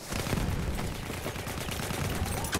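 MP18 Trench submachine gun fire in Battlefield 1 rattles on continuously in dense bursts, heard amid busy battlefield noise with no clear pauses.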